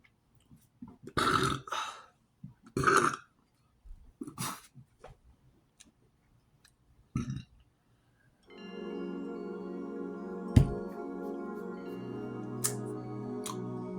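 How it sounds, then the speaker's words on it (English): During a Christmas mukbang meal, a person lets out several short, throaty burps in separate bursts, followed by a longer, steadier droning sound. "I'm gonna burp again."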